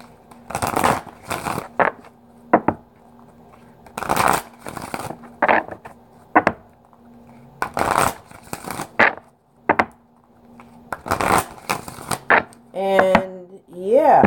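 Close-up tarot card shuffling comes in repeated bursts of crisp slapping and riffling with short pauses between them. A voice is heard briefly near the end.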